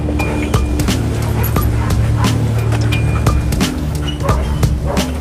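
Dog barking during a security vehicle inspection at a high-security mountain bunker facility, sharp barks recurring through the clip over a steady low engine rumble and background noise, with some voices faintly present.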